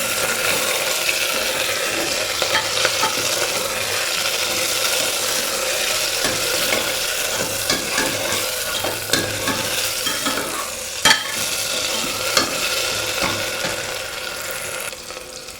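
Tomato and onions frying for mutton curry give off a constant close hiss, broken by occasional scrapes and taps of the stirring spoon against the pan.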